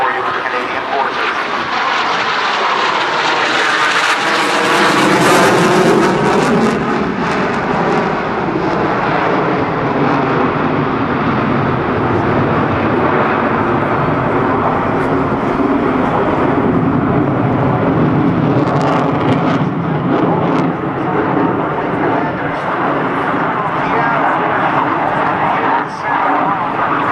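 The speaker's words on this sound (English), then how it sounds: "the CF-18 Hornet demonstration today." A CF-18 Hornet jet fighter performs an airshow demonstration, its engines roaring loudly in a sustained, sweeping rush that swells as it passes and then fades into a long rumbling wash.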